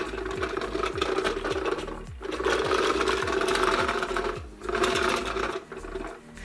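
LEGO Power Miners Rock Wrecker set from 2009 with its gears turning the saw pieces: a close, steady rapid clicking whir, grinding in continuous bursts with brief pauses.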